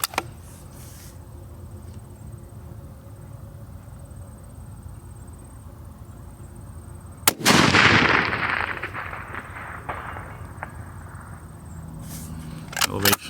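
A single sharp rifle shot with handloaded ammunition rings out loud at an outdoor range, its report decaying over several seconds amid steady background noise, with a fainter pop near the end.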